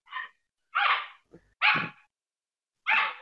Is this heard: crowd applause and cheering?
no